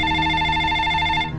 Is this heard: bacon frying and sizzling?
no